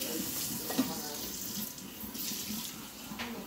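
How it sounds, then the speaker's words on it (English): Water runs steadily from a pour into a roasting pan in a home kitchen, a soft continuous splashing hiss at low level with no talk over it. "Let me add a little more water to the roast."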